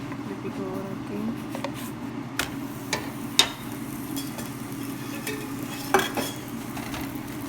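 Sweet potato paratha fries in oil in a pan, a soft steady sizzle punctuated by several sharp clinks and scrapes of a utensil.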